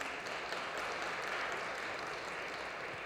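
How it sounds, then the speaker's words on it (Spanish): Audience applause at a book presentation at the FIL Minería book fair in Mexico City, a steady wash of many hands clapping that sounds like an indoor crowd and holds evenly for a few seconds. "un aplauso para Brenda antes de empezar la conversación"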